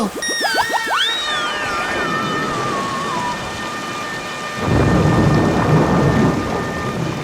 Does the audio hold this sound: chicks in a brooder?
no